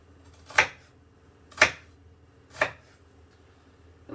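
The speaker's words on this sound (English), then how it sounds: "You kind of cut the onion not all the way along, but kind of 3/4 of the way, so that the onion still stays together." Three crisp knife chops cut through an onion on a board, evenly spaced about a second apart, each a sharp close thud with quiet gaps between.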